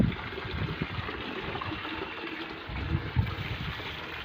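Tap water pours steadily onto garden plants such as a chili plant, a close continuous splashing and gurgling flow with small bursts of louder splatter and no talk.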